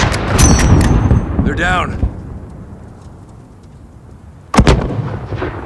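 Gunfire rings out in Call of Duty: Modern Warfare 2019 during a desert sniping mission: a burst of sharp booming shots at the start, then a lull with radio chatter and a voice, and another loud pair of cracks near the end.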